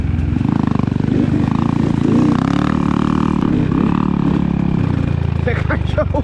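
Dirt bike engine, a GasGas EC300 two-stroke riding through mud at an ATV park, droning loud and steady throughout with revving swells, while people talk over it.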